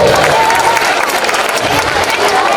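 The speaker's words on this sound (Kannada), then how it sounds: "ಜೋರಾದ ಚಪ್ಪಾಳೆಯೊಂದಿಗೆ ಆ ಎಲ್ಲ ವಿದ್ಯಾರ್ಥಿಗಳಿಗೆ ಅಭಿನಂದನೆ ಸಲ್ಲಿಸಬೇಕು" Audience applause at a school stage program in Shirahatti, congratulating students; steady, dense clapping from a crowd throughout, with some voices mixed in.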